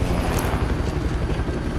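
A helicopter in a film scene roars with a dense, loud rotor and engine rumble that holds steady throughout, close and continuous, with no talking.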